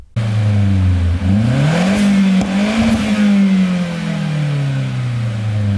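A Mazda 3 MPS engine revs up and down through the exhaust, a deep rising and falling growl heard close by with no talking.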